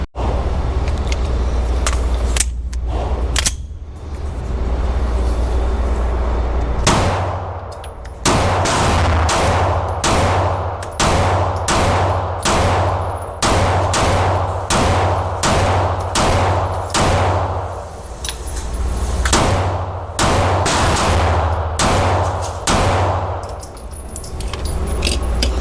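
Pistol shots from a Canik, a Glock and a PDP fired in a steady series of loud, sharp cracks, each ringing out briefly, with short pauses between strings of rapid fire.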